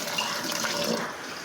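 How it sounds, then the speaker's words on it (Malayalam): Water poured into a pressure cooker holding chopped banana pieces for a Kerala pazham payasam, a steady close splashing stream lasting the full moment without pause. "1 കപ്പ് വെള്ളം ഒഴിച്ചു കൊടുക്കാം."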